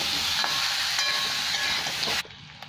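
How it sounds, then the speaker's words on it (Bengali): Vegetables frying with turmeric in a pan for sambar dal, a steady close sizzle with faint stirring scrapes that cuts off abruptly near the end. "এটাকে 1-2 মিনিট ভালো করে ভেজে নেবো একটু সবজিগুলো"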